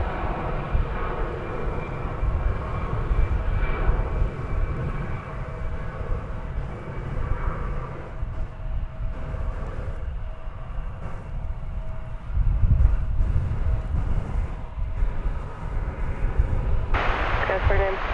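An Airbus A319 airliner at DFW Airport, its engines a continuous broad roar that swells midway and holds, heard from a distance with a steady rumble underneath and a voice talking over it.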